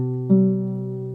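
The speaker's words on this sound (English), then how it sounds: "I'll play it on the guitar." A single guitar note, the C of a C–G interval, is plucked with a sharp attack and rings on steadily with a slow fade, heard alone.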